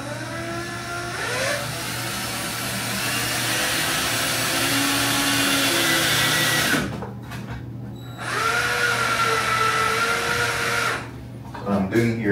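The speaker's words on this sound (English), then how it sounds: "I'm not screwing it to the wall, I'm just screwing the screw in there halfway" A power drill drives a screw halfway into a wall while a hair-wash bowl is installed, whirring loudly and steadily for several seconds, stopping briefly, then running again in shorter bursts.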